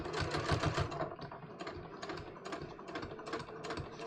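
A sewing machine runs in short bursts while stitching a welt pocket on a garment, its needle chattering rapidly close up, pausing briefly between runs, with no talking.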